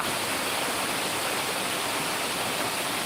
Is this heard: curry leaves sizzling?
no